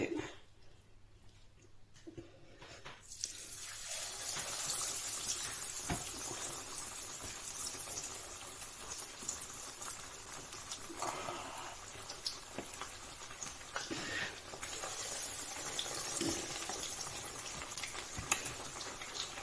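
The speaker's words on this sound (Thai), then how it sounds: "ก็จะมาทอดไก่" Chicken pieces drop into hot oil in a pan, and after a few quiet seconds a steady, fairly soft sizzling hiss with scattered crackles and pops begins and carries on alone.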